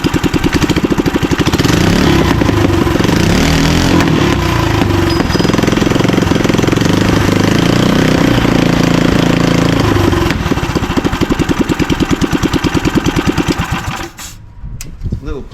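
A small engine mounted on a CB2 motorbike setup runs loud and close after a test start, with a rough, popping, rapid putter that carries steadily before cutting out near the end.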